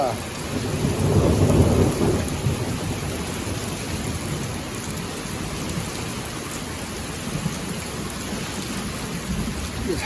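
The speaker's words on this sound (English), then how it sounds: "a huge lightning strike right out there, pretty close, well, not too far away. It hit hard and it rattled the place" Thunder from a close lightning strike during a heavy downpour, a loud low rumble swelling early then rolling off beneath steady rain on the roof and surroundings.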